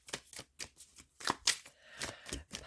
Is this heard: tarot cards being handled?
yes